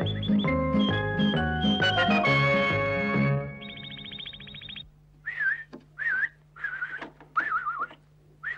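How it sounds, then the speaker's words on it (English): A person whistles a short series of melodic calls to summon someone in a children's puppet show, each phrase clear and rising and falling, separated by brief pauses after some music. "Why are you whistling"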